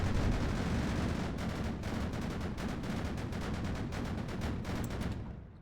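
Twin Gatling guns on the HGS "Stampede" anti-aircraft vehicle in Sprocket fire a sustained, rapid stream of shots in even, evenly spaced bursts, loud and close, before cutting off near the end.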